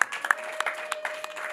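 Light scattered clapping from a small crowd at a Rwandan wedding, faint sharp claps over a steady tonal hum.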